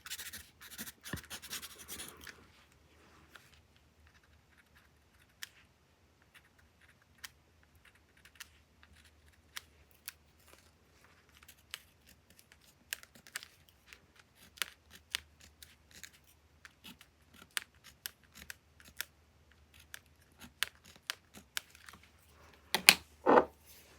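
Scissors snipping packing paper for a journal collage, a burst of rustling at the start then scattered short crisp cuts and paper handling, close and fairly quiet, no talking.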